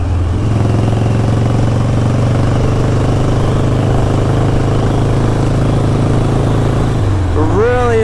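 A 1983 Harley-Davidson Ironhead motorcycle engine runs steadily and loudly close by, its low, even rumble continuing throughout. Near the end the engine note shifts as it revs up briefly.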